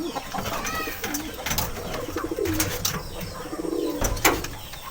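Breeding pigeons in a loft, hens settling onto their nests, coo softly and repeatedly at close range, with a few brief chirps and a faint flutter between calls.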